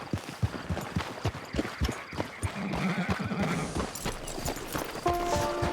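Horse hooves clip-clopping in a cowboy video game, a quick rhythmic run of close hoof knocks with a brief whinny, then game music tones entering near the end.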